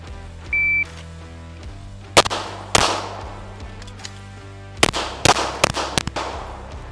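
A pistol fires on an outdoor range during a two-four-slide-lock-magazine-change-four shooting drill, with a timer beep, then a pair of sharp shots, a pause for the reload, and a closely spaced string of four more cracks.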